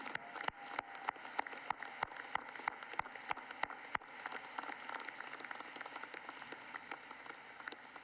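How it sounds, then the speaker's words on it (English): At a Mines undergraduate commencement ceremony, the audience claps for alumni guests: scattered sharp claps from a few nearby hands stand out over a soft, continuous patter of distant applause. "We can clap for you."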